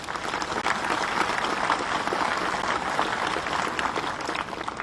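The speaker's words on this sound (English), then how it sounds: "Everyone, please give them a round of applause." An audience at a 2020 high school graduation ceremony applauds the teachers, a dense, steady wash of many hands clapping at once that holds loud throughout.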